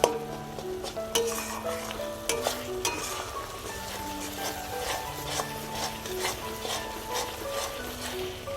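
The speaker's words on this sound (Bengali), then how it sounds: "এবার এটা আমি 2 থেকে 3 মিনিট ভালোভাবে কষিয়ে নেব" Spice masala for a Bengali chicken curry frying in a pan, a continuous sizzle broken by repeated sharp clinks and scrapes of a spatula stirring against the metal.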